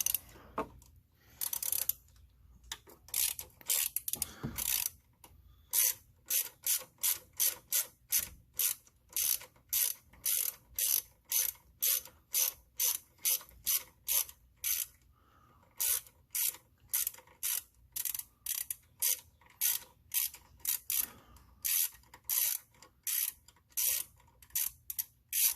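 A ratchet on an extension turns long coil pack bolts on a 1999 Ford F-150 4.6L engine, clicking in rapid, evenly spaced bursts of crisp strokes, close and clear, with brief pauses between runs.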